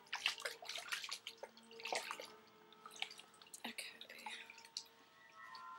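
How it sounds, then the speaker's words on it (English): Water splashing and dripping as a foot soaks in a basin during a foot massage routine, with soft trickles and drips close by and no talking. "I'm going to soak the foot"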